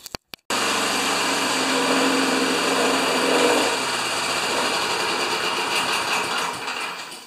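A Honda HRA214 lawn mower's small petrol engine, just repaired with a cleaned plug, catches after a few brief clicks and then runs steadily and loudly close by, its drone easing slightly toward the end.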